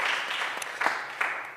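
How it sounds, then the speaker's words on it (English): A crowd at a Philadelphia mayoral bill signing gives a short burst of applause, a soft, dense patter of clapping with a few sharper claps standing out, heard from some distance. "give them a huge round of applause"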